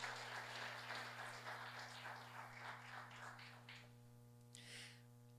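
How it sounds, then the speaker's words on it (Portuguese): A church congregation applauds in a steady wash of clapping over a constant low electrical hum, tapering off near the end into a few scattered claps. "Aplaude ao Senhor, aplaude a Ele."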